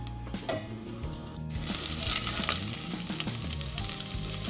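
Tomato paste fries in oil in a pot with a busy, close sizzle, popping and spitting over soft scraping stirs, and no talking.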